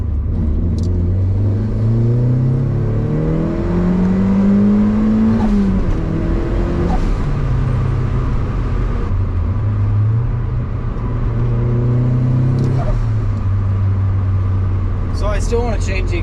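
A turbocharged Mazda Miata's exhaust revs up and down repeatedly in long sweeping pulls, loud and close, with rising and falling drone.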